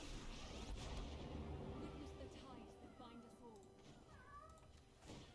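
A pet cat meows in a few short, rising calls, heard faintly under a steady backdrop of game sounds.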